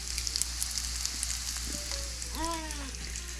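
Vegetarian black bean and mushroom meatballs sear in a pan with a steady, close, hissing sizzle. A brief squeaky tonal sound rises near the end.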